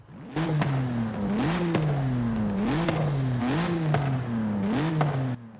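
A modified BMW M4 engine in Forza Horizon 5 revs repeatedly, loud and close, with about five rising-and-falling pulls of a deep, full exhaust note and no talk.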